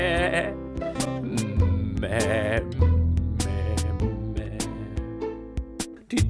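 A singing voice imitates a goat's bleat in a children's song about a goat, repeated bleat-like calls over steady, full musical accompaniment.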